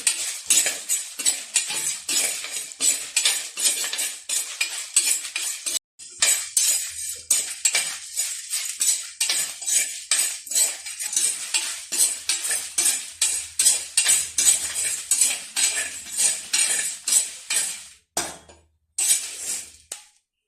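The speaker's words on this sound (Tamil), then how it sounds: "சோம்பு இதையெல்லாம் சேர்த்து கொஞ்சம் பொன்னிறமாக வர மாதிரி வறுத்து எடுத்துக்கலாம்" Fennel seeds and spices are dry-roasted in a pan until golden while a spoon scrapes and clinks against the metal in a steady, close, rapid rhythm with a faint sizzle, broken by two brief pauses and with no speech.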